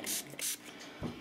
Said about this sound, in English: And make sure you spray it really well